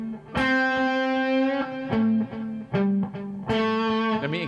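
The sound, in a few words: electric guitar palm muted notes with distortion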